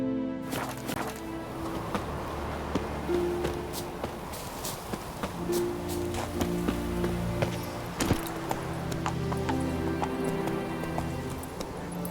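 Hooves of Roach, Geralt's horse in The Witcher 3, thud in an irregular clopping rhythm over a low ambient bed, a few sharper hits standing out, with no speech.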